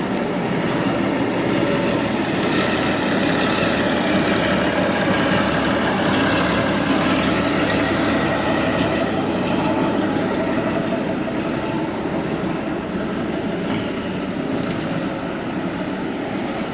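A cable shovel's diesel engine runs steadily and loud while the machine drives, a continuous broadband rumble with mechanical clatter that holds constant throughout, no voices.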